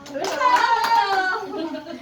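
Several quick hand claps in a lively rhythm, close by, mixed with children's voices.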